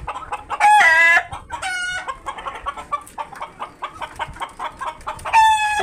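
Fayoumi hens and roosters on a poultry farm, with loud nearby crowing at the start and the end and repeated clucking filling the gap between, several birds calling at once.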